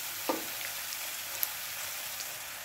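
Onions browned lightly in a pan with dry spices such as turmeric added, giving a steady, fairly quiet frying sizzle throughout, with a couple of faint stirring taps and no talk.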